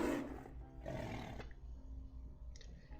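In a video game, a lion roar plays as a player's cap sound, a loud, growling burst that repeats once and then trails off.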